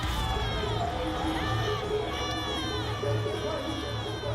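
A dense crowd at Pandokhar Dham shouts and yells continuously, with high voices overlapping in a loud, steady din.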